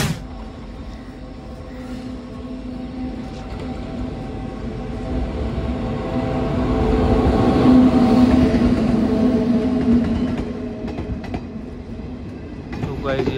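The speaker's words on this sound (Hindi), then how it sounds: "गाइस आ चुकी है अपनी ट्रेन" The Shamli–Delhi passenger train arrives at a station with a heavy, continuous rail rumble and wheel noise that swells louder toward the middle as it passes close, then eases slightly.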